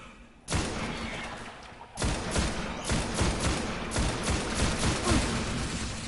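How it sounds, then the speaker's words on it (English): Rapid, loud bursts of automatic energy fire from Harpy enemies in Destiny, a dense rattle of shots that starts abruptly, pauses briefly, then continues in quick pulses with no talk over it. "Harpies are like machine guns. They take a second to set up, but once they do, you are totally boned"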